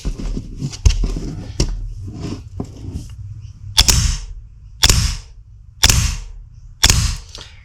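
Full-auto HPA blaster cycling rapidly, a series of sharp pneumatic cracks and snaps, first quick irregular bursts then four loud evenly spaced shots about a second apart, close and with no talking.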